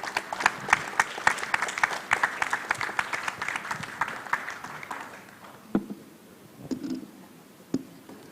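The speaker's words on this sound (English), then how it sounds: "Give applause to our panelists here." An audience at a summit panel session applauds with dense clapping that thins out to a few scattered claps, heard from within the room.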